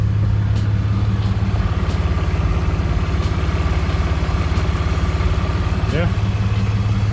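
A BMW E46 325xi with a custom welded exhaust idles steadily and close, a deep, even low rumble holding through the whole stretch while someone speaks briefly over it.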